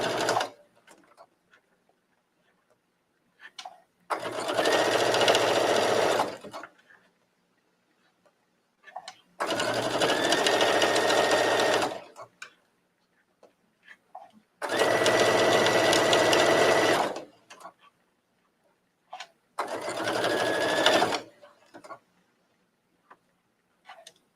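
Domestic sewing machine stitching bias tape onto a trench coat, running in four steady bursts of about two to three seconds each with short quiet gaps between them, close and clear with no talking.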